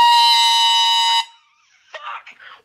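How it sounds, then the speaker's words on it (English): A loud, sustained air horn blast lasts just over a second, then cuts off, followed by a short burst of indistinct voice. "Is that an air horn?"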